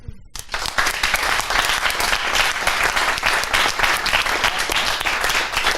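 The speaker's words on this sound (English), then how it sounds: "and then we clap." An audience claps after a one-sentence startup pitch at a live pitch event, with dense, steady applause starting abruptly and holding loud and close throughout.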